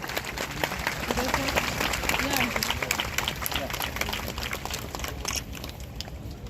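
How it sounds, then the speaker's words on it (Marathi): Applause from an audience at a women's self-help group funding event, a sustained wash of many hands clapping that swells and tapers over several seconds, with voices mixed in. "सर्वांनी जोरदार टाळ्यांचा या ठिकाणी गजर करायचा आहे"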